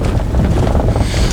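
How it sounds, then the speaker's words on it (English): Strong wind buffeting the microphone outdoors at night, a loud low rumbling roar with gusty fluctuations throughout and no talk. "Yep, it got a little windy, a little breezy tonight."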